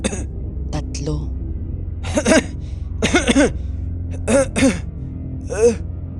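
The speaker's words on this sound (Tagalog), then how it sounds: "Hanggang sa marinig niya ang pag-ubo. Isang ubo, 2, 3." Several separate coughs and throat-clearing bursts inside a moving car, spaced a second or so apart and close to the listener, over a low steady engine hum.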